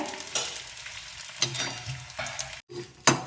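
Edible gum (dink) fries in a pan of hot fat for wheat flour ladoo, crackling and puffing under a close, lively sizzle punctuated by several scraping stirs and a brief dropout near the end, with no speech.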